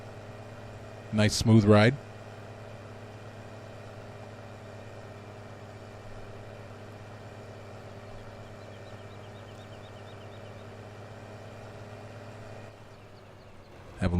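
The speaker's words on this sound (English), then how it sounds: "Nice motor sounds." A Massey tractor engine in a video game idles with a steady low drone throughout, briefly covered by a short spoken remark near the start.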